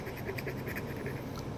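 A coin scrapes across a Florida Lottery scratch-off ticket in short, repeated strokes, close and fairly quiet.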